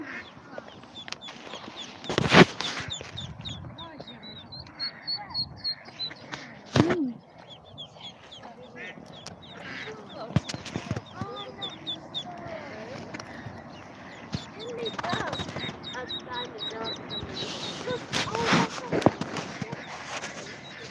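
Mother duck at a pond with her ducklings gives repeated quacks and chatter amid rapid high peeping, with outdoor rustling and a few sharp knocks throughout.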